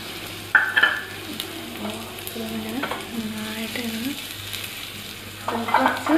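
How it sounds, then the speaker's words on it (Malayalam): A handful of small shallots, four or five, frying in hot oil to temper a chicken curry: a close, crackling sizzle with stirring scrapes, swelling in louder bursts at the start and end, while a voice talks softly over it. "നമുക്ക് ചെറിയുള്ളി താളിക്കാനായിട്ട് ഇട്ട് കൊടുക്കാം"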